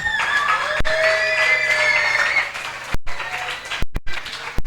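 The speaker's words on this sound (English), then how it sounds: "a very big round of applause for them" Audience applause fills a children's Bible quiz competition final, a sustained crowd clapping with some cheering and shouts, broken by a few sharp gaps near the end.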